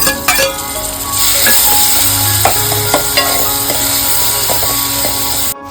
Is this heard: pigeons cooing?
no